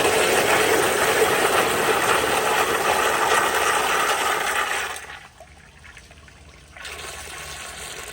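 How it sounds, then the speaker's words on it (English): A Kohler Dexter urinal flushes with a powerful, loud rushing of water that runs for several seconds, then abruptly cuts off to near quiet before a softer refill hiss returns. "but here's another flush."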